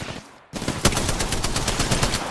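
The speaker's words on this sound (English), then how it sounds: "Getting shot at." Automatic gunfire in the battle-royale shooter Apex Legends: after a quiet half-second, a sustained burst of rapid, evenly spaced shots rings out loud and close until the end.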